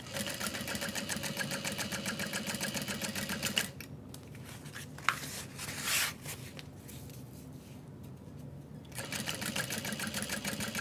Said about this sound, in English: we're gonna flip that down and top stitch through the bulk